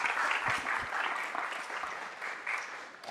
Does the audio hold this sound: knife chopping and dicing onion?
no